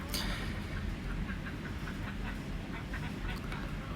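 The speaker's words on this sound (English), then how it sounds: "I'm just feeding the ducks and the chickens probably at this point right now." Ducks and chickens call in a busy farmyard during morning feeding, with scattered quacks and clucks overlapping throughout against a steady outdoor background.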